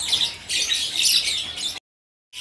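A white starling at a bird market gives a loud, harsh, raspy squawking call in a couple of bursts, close by, followed by a moment of silence.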